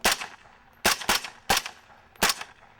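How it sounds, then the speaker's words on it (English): Sharp gunshots from a magazine-fed gun crack in irregular spacing, five distinct reports with some doubled, fairly close and moderately loud with short decays. "put the new magazine in, hit the button to chamber around, and then start shooting again. 5 more shots."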